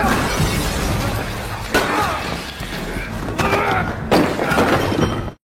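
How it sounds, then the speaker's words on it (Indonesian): Toilet fixtures and interior smashed apart during a violent fight, with repeated crashing, shattering impacts and clattering debris, loud and busy throughout, with sharp bursts near the middle and toward the end. "Jang Chen dengan keras kepala terus berusaha menghajarnya sampai-sampai seluruh interior toilet pun hancur dibuatnya."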